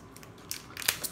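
Scissors cut open a zipper pouch package in a quick run of crisp snips and crinkles, close and fairly quiet, with the sharpest cut near the end.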